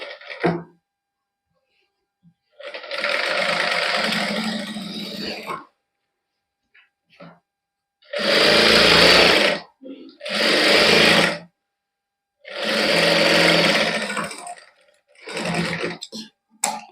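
Sewing machine running a loose basting seam on a suit in a tailoring boutique, in several separate bursts of loud whirring stitching, each a second to three seconds long, with quiet pauses between.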